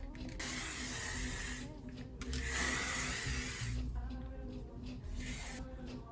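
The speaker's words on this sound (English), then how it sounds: "I'm gonna spray." Hair spray hisses onto loose curly clip-in hair extensions in several short bursts of spraying, close and fairly quiet, with pauses between them.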